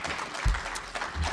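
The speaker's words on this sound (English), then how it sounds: "Hey, applause." Brief applause from a lecture audience, a fairly faint wash of clapping with a couple of low thumps, heard alone without talking.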